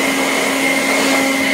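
Compressed air blasting through a sawmill engine's removed outer air filter, a steady loud hiss held for about a second and a half before cutting off abruptly.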